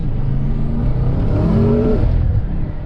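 A BMW M5 with a Shiftech performance tune revs its engine in a steady, loud mechanical roar that rises in pitch, then eases off near the end.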